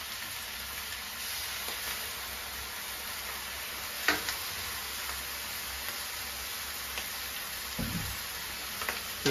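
Dried bamboo shoots and duck sizzle steadily as they fry in a wok, a continuous close hiss with a few soft clinks and scrapes of the spatula, no voices.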